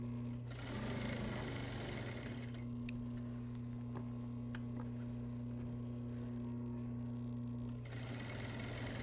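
A sewing machine with a hem foot stitches a cotton skirt hem, a steady close mechanical whir with a low motor hum and rapid needle ticking that runs for several seconds.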